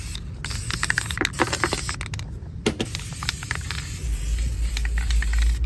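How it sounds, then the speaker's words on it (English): Aerosol primer sprayed onto the bodywork of a Kei car in short bursts, a close, steady hiss broken by brief pauses, with no talk over it. "Let me put 1 coat of primer."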